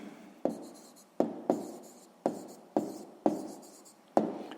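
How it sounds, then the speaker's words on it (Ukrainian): Handwriting an answer for a sixth-grade maths exercise: a pen or pencil scratches on paper in six distinct strokes, each starting with a sharp onset and trailing off, close and quiet with no talk. "Записуємо відповідь."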